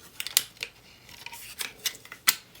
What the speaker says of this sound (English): You pull it down, you can hear that clicking sound.